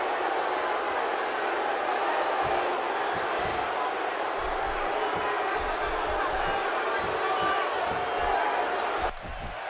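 Large wrestling arena crowd at WWE No Mercy 2016 filling the space with a continuous roar of cheering and murmur, loud and steady with scattered thumps, ending in a slight drop.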